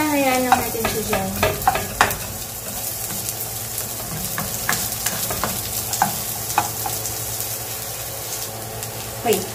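Ingredients for chicken tinola sautéing in a pan, a steady loud sizzle with scraping stir strokes and clinks, close up, with no talk over it.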